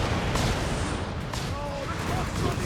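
Troops firing amid battle noise in Company of Heroes 3, a dense continuous wash of gunfire and distant artillery rumble with a faint whistling tone, steady and fairly loud throughout.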